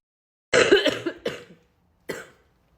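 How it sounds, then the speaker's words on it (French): A person coughs harshly several times up close: a rapid burst of coughs, then a pause and one more cough. "Je tousse, mais comme jamais, genre insupportable."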